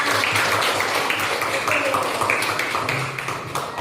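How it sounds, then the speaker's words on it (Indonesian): A class claps on cue during a classroom lesson, a steady patter of many hands that fills the room and eases slightly toward the end. "beri tepuk tangan"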